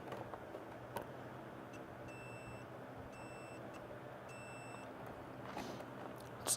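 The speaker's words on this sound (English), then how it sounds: "Surely you can hear that beeping" A multimeter in continuity mode, testing a fuse, beeps three times with short, evenly spaced electronic tones, faint against a quiet background hum with a few small clicks.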